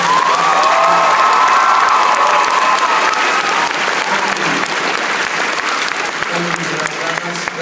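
An audience at a fan panel breaks into loud, sustained applause with cheers and whoops, close and dense at first and then tapering slightly as the clapping carries on.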